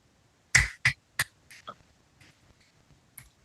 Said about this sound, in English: Finger snaps for you.